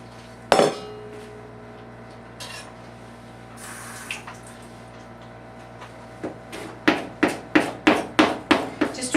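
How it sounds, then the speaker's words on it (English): A knife chops soft fresh herbs on a cutting board for a raw meatloaf, first a few scattered knocks and clinks, then a quick run of crisp, evenly spaced chops building close up at the end, with no talking. "We'll go ahead and chop these herbs."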